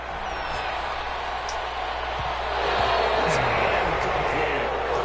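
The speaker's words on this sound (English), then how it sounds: "Some applause for the defense there." A simulated stadium crowd in a PS4 football game between the Colts and Mahomes' team swells into applause and cheering, a broad continuous roar that grows louder midway, under a play-by-play commentator's voice.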